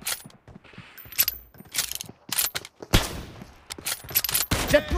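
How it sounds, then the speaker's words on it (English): Weapon reloading in the game PUBG Mobile, a quick sequence of mechanical clicks, ratchets and metallic clacks in short bursts, close and fairly loud with brief gaps between them. "Reloading!"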